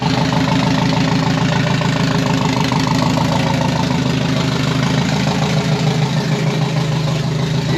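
A Nissan SR20 engine in a Nissan Silvia S15 idles steadily and loudly, a continuous close rumble with a faint rhythmic knock and no voices.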